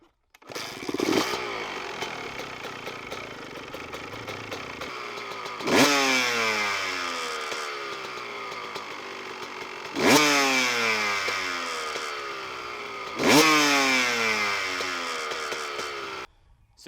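Two-stroke motorcycle engine started and revved, sharp rising blips of throttle at regular intervals over a crackling, buzzing idle, close and loud, no talking.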